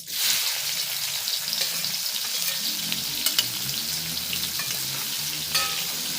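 Onions sizzle steadily as they drop into hot oil for a dry fish chutney, a loud, dense crackle that holds for the whole stretch, with a few sharper pops and spatters and no talking.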